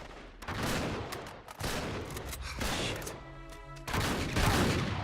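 Enemy gunfire in Uncharted 3: Drake's Deception at a chateau, with loud rapid bursts and scattered shots that keep coming in waves with brief gaps and no talking over them.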